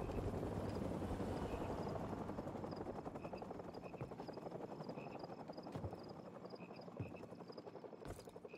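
Military helicopter in a Call of Duty–style video game, its rotor chopping steadily and fairly faint throughout, with scattered sharp game effects and no speech over it.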